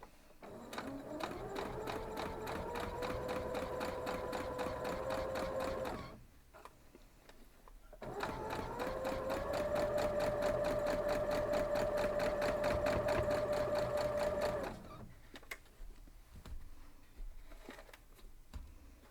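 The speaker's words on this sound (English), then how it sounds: "So we're just going to go sew these up." A sewing machine stitches star quilt block pieces with a scant quarter-inch seam in two long steady runs of whirring, about six seconds each, close and loud, separated by a short quiet pause.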